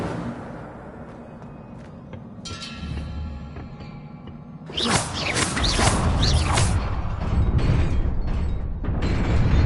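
An Incendio fire spell is cast in Hogwarts Legacy on PS5. Creaking mechanical sounds come first, then a sudden whooshing burst of flame that roars on loudly and steadily to the end.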